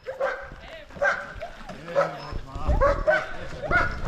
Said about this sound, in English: Every dog in here just erupted as soon as one of the other one's cage was open.